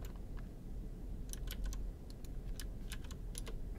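Keys clatter on a computer keyboard as a command is typed into a terminal on an Apple Silicon Mac, in short irregular bursts of close, crisp clicks over a steady low hum.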